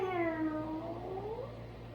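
A person imitates a cat meow during a yoga session, a single drawn-out meow that slides down in pitch and fades, fairly quiet over a low steady hum.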